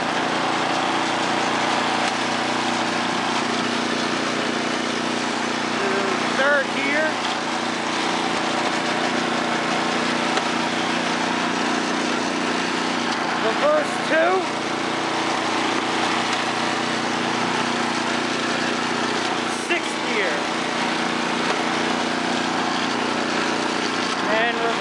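A Craftsman 10/30 snowblower engine runs steadily at close range, a constant droning hum that continues without a break for the whole stretch, with no talk over it.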